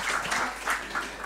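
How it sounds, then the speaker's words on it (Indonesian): Brief applause from an audience at a national dialogue event hosted by an Islamic institute, a dense patter of clapping lasting just over a second at moderate volume with no talk over it. "Boleh beri tepuk tangan untuk beliau."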